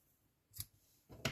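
Scissors cut crochet yarn for an amigurumi fox, two short crisp snips close by, the second louder, in an otherwise quiet room.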